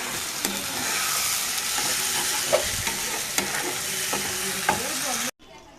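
Washed meat sautéed with spices in a pan hisses in a strong continuous sizzle, broken by a few sharp scrapes and taps of a stirring spoon, before cutting off abruptly near the end.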